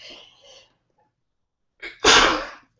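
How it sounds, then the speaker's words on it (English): A single sharp, loud sneeze close by, preceded by a quick inhaling gasp after a brief pause. "Excuse me while I sneeze."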